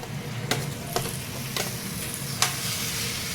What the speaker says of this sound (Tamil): சேர்த்துட்டு நல்லா கலந்து விட்டுக்கிறோம்.